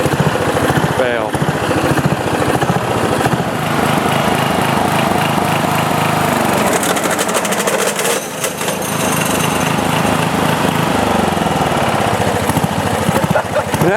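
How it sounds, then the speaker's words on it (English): Sears Companion lawn tractor running after sitting seven years, with a bad mower deck mandrel: a loud, steady engine drone with a rough, rattling grind throughout, close up, with voices talking over it. "That is the sound of a bad mandrel."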